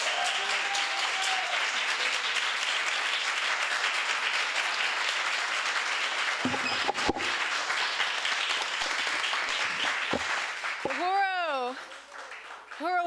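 A packed audience at an Oxford Union evening applauds a performance with sustained, dense clapping that stays loud and even for most of the stretch, then thins as a voice comes in near the end.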